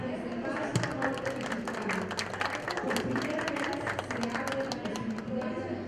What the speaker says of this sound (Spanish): le damos las gracias y un fuerte aplauso